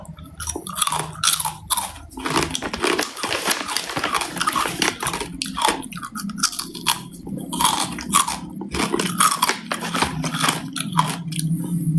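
Someone bites into and chews crispy pork crackling chili paste (nam prik kak mu), producing loud, continuous crunching and munching close to the mic for twelve seconds, with no talking.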